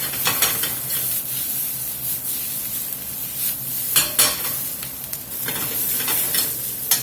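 Steak sizzles and fries loudly in a hot skillet for fajitas, a steady close crackle broken by scraping stirs and rubbing of a utensil against the pan, with no talking.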